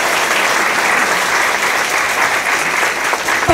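Concert audience applauding after a vocal group is introduced, loud, dense and continuous clapping from a large crowd at close range, with no pause.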